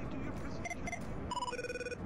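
Electronic telephone ringtone in a video game, with short beeping tones, then a longer two-pitch ring, over a low background hum.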